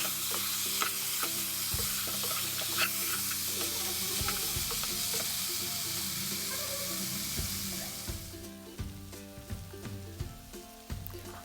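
Pepper chicken frying in a pan as spice powder is stirred in, with a steady sizzle under repeated scraping strokes of a spoon. The hiss drops away near the end and leaves only scattered stirring clicks, with no voices.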